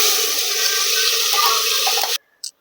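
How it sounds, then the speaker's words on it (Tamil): Water pours loudly and steadily into a cooking pot for pongal, three cups for each cup of rice, for about two seconds before it cuts off, followed by a brief light clink. "1 டம்ளர் அரிசிக்கு 3 டம்ளர் தண்ணி கணக்கு பண்ணி ஊற்றிக்கலாங்க."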